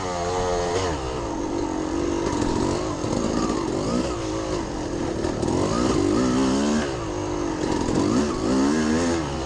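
A dirt bike engine revs hard and continuously during a hare scramble race, rising and falling as the rider slows, clutches and accelerates around obstacles, loud and close throughout.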